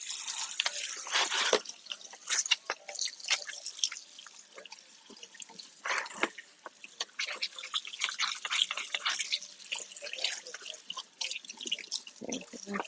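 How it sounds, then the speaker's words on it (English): Water runs from a faucet over a pot at a kitchen sink while it is being rinsed, giving a steady patter of splashes and drips at close range, faint and unbroken throughout. "Rinse rinse this off pretty easily."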